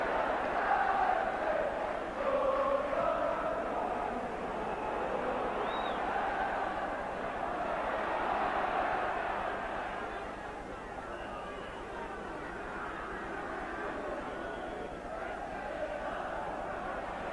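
Home fans at a Manchester United versus Tottenham Hotspur Division One match in 1983 give a sustained crowd roar. It swells early, then eases into a broad, steady murmur of stadium noise.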